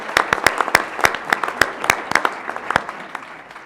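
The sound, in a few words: audience applause at symposium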